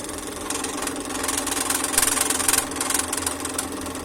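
A scroll saw running while cutting a wooden letter pattern makes a steady, close mechanical buzz with rapid vibrating chatter, growing slightly louder midway and holding constant throughout.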